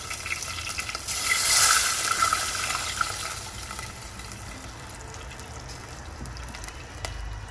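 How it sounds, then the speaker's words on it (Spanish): A cup of water is poured into a cooking pot over sautéed onion for coconut rice, a steady close gushing splash that swells early then settles into a continuous hiss. "ponemos una taza de agua"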